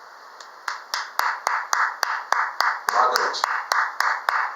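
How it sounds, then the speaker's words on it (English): Church congregation clapping in a steady, rhythmic beat, about a dozen evenly spaced claps close and clear, with a preacher's voice speaking briefly over them. "Clap your hands for Jesus, amen"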